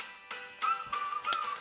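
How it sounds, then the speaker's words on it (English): A short, thin whistle holds a steady high note for about a second, with a few sharp clicks around it. "Like the whistle though."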